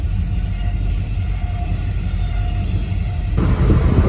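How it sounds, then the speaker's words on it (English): A train rolls past nearby with a steady heavy rumble and rattle of rail cars, loud and continuous, swelling slightly at the end. "we're just waiting on the train to go by now"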